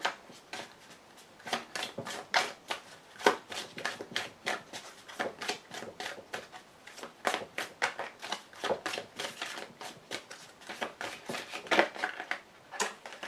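A deck of tarot cards being cut and handled on a table, giving a series of close, sharp papery snaps and slides in irregular bursts, with no talking.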